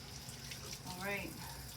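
Warm tap water runs softly and steadily as hands are wetted, with a faint voice murmuring briefly partway through.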